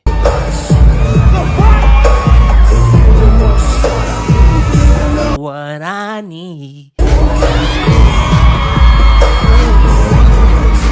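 A crowd screams and cheers loudly over pounding music, cut by a brief quiet stretch where a single voice sings, then the roaring crowd returns.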